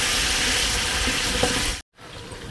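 Onions hitting hot oil in a frying pan for a vegetable bath dish cooked in quantity for about seventy people, a loud close sizzle that holds steady, breaks off briefly, then resumes.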